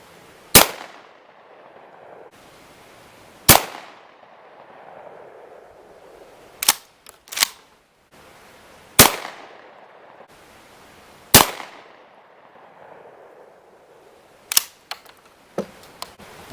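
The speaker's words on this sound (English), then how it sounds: "I'm going to shoot left top, left bottom, right top, right bottom." A Sears Model 200 20-gauge shotgun fitted with a poly choke fires six sharp, loud single shots at irregular intervals, with fainter clicks and handling noises between them.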